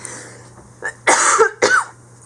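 One close person coughs, a small throat sound followed by two sharp, loud coughs in quick succession, then quiet.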